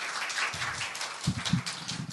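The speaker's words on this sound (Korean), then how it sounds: "큰 박수 부탁드립니다" Soft, brief applause from the audience fills a couple of seconds at a science culture symposium session, with a few closer claps standing out near the middle.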